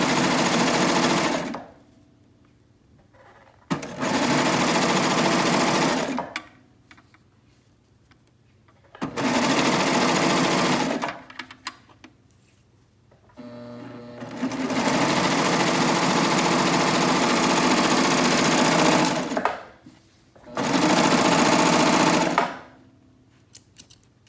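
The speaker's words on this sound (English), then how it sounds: "And this will just sew this right into the shoulder seam for us." A sewing machine stitches clear elastic into a shoulder seam in four loud, close bursts of rapid mechanical whirring, each lasting a few seconds and separated by quiet pauses.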